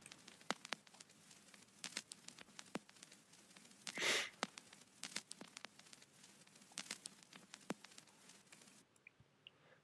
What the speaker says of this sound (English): So the next instrument or sound I have here is just an old record popping kind of sound